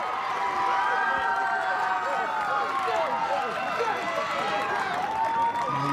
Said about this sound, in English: You can hear there's a decent crowd here supporting the defending champions.